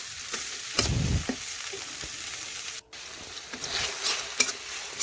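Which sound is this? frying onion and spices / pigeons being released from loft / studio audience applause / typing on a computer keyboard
frying onion and spices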